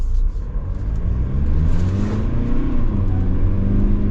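A 2023 Mercedes Sprinter high output diesel van with all-wheel drive accelerates hard, its deep engine rumble and rising drone loud and close, steady for several seconds with no talking.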